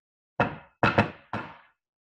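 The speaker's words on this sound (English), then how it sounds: "heard a knock at the door" Three solid knocks on a door, spaced evenly with the middle one doubled, each a close, hollow thud standing alone in silence, used as a storytelling sound effect.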